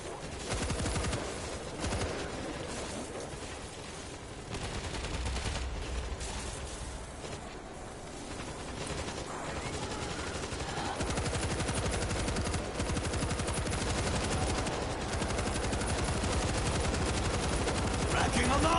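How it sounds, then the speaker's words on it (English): An auto turret in World War Z fires steadily at zombie hordes, a continuous rattle of rapid shots under game noise and occasional voices. "Auto turret ready for action."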